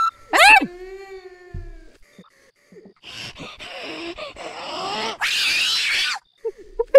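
A girl in an Indian horror video game screams and wails, with high rising cries, a long moaning tone and later a harsh shriek, loud and close, with short gaps of quiet between bursts.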